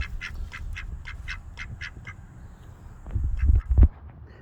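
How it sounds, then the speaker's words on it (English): A rescue duck on a farm gives a quick run of about eight bright, evenly spaced quacks, followed by a couple of louder, rougher calls with some low bumps and handling noise close by. "What are you doing, rescue duck?"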